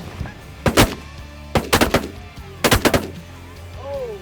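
Bird hunters fire shotguns in three quick volleys of two to four loud, close blasts each, separated by short pauses, with a faint goose-like honk near the end.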